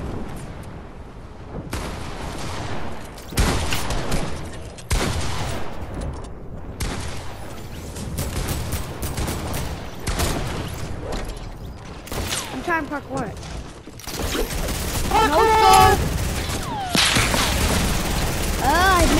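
Gunfire in a shooter video game, with dense, repeated shots and booms cracking through almost twenty seconds, loud and close, mixed with game effects and a voice talking over it.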